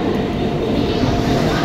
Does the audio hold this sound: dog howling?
no